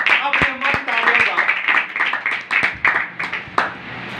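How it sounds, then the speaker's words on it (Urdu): An audience at a religious gathering applauds loudly with a thick, steady patter of many hands. A voice speaks over the clapping now and then. "ایک بار زوردار تالیاں"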